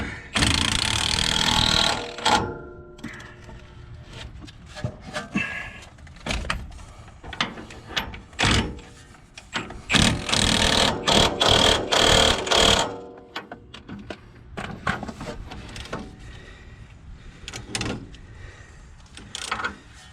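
Impact wrench driving strut bolts on a 2016 RAM 1500 4x4 during a Rough Country 2-inch leveling strut install, loud close rattling bursts of varying length separated by short pauses.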